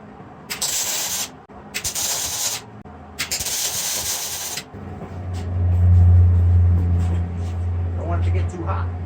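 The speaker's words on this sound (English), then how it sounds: "I'm gonna try to add some weld to this wheel so this isn't so sloppy." Welding onto a mini-bike wheel to build up a sloppy fit, heard as three loud bursts of crackling hiss with short gaps, followed by a deep steady hum and some rattling handling noise.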